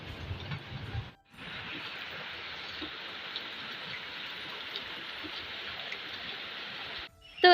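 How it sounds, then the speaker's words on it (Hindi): Heavy rain pours steadily outside a window during a storm, a dense, even hiss that runs almost unbroken after a brief gap near the start, with no voices over it. "बारिश देखो बाहर खतरनाक वाली आ रही है"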